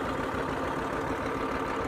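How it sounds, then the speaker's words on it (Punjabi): A 1959 John Deere two-cylinder tractor engine runs steadily up close, a continuous mid-to-low rumble with no pauses and no voices. "1959 ਮਾਡਲ ਜੌਂਡੀਅਰ ਦਾ ਟਰੈਕਟਰ ਦੇਖ ਸਕਦੇ ਹੋ ਦੋ ਸਿਲੰਡਰ ਆ"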